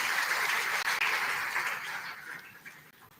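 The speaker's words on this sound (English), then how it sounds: "Can we give ourselves a round of applause?" Audience applause at the Enactus Nigeria National Competition 2022 final round, a dense wash of clapping that starts loud and gradually thins and fades toward the end.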